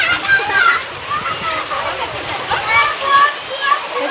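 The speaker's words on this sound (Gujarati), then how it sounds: "કેટલું પાણી જાય છે જો" Rainwater rushes down a residential street after a brief shower, a loud, steady wash of flowing, splashing water with people, including a child, talking over it.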